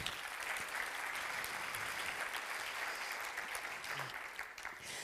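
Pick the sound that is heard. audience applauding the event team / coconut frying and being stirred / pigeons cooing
audience applauding the event team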